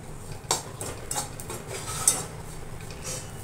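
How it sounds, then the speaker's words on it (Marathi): Grated almonds dry-roasting in a pan for ukadiche modak filling, with a spoon scraping and clinking against the metal in sporadic strokes over a faint background hiss. "ते चांगले भाजून घेऊया"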